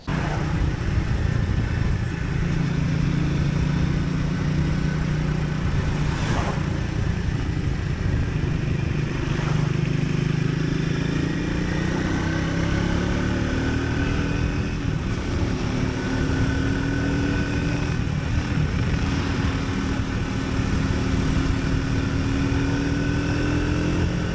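A Triumph Speed 400 single-cylinder motorcycle engine revs hard while riding a country road, loud and continuous with rising and falling pitch through gear changes, mixed with heavy wind rush.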